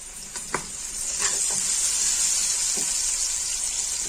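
A spoonful of garlic paste frying in a pan with sliced onions while cooking karela chana dal, a steady hiss and sizzle with a few stirring clinks early on, close and continuous.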